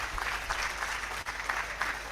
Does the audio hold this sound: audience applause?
yes